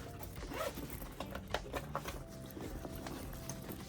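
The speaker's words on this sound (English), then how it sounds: "So I went ahead and pushed in the zipper." A zipper on a handmade handbag is pushed along, giving a short ratcheting rasp with small clicks and creaks, close and moderately loud with no one talking.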